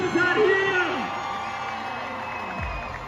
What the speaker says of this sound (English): Give him some love. Round of applause out here.